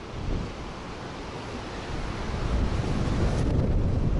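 Strong wind gusts roar during a severe storm in Utah, buffeting the microphone with a low rumbling rush that builds louder toward the end, with no talk.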